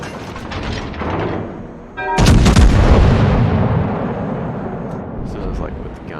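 Hyuga battleship main guns fire in World of Warships: one loud, deep boom bursts out over ongoing game noise, then rolls into a long rumbling decay.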